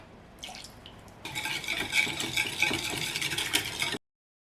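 A spoon stirs melted butter into a mustard sauce in a small bowl for air fryer broccoli, a continuous close scraping and sloshing with light clinks, starting after a quieter moment and ending abruptly.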